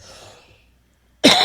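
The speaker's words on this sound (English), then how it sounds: "And I'll cough on you." A single sharp cough bursts out loudly at the end, after a short quiet pause.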